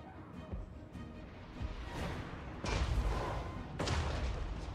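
Cannon or artillery volleys in the Total War: Warhammer 3 battle game, firing at a fortress wall; several loud booming shots arrive in bursts over a continuous rumbling battle din.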